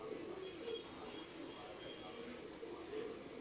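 A pigeon coos softly in repeated low, throaty phrases over a steady background hum, close but quiet, with a faint chirp now and then.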